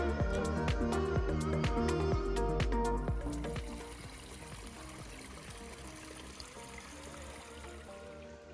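Water trickling from a culvert stream beside a trail, a steady close pouring and gurgling flow that drops to a softer, quieter trickle partway through, with no talking.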